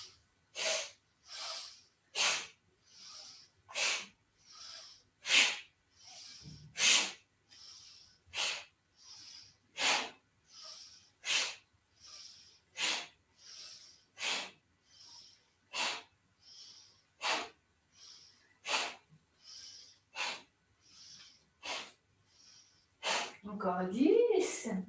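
Rapid, forceful breaths during a yoga breathing exercise come as sharp, airy nasal puffs in an even rhythm, roughly one per second, loud and close. A voice cuts in briefly near the end.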